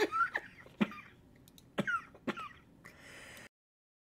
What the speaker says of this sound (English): Got a little cough there all of a sudden.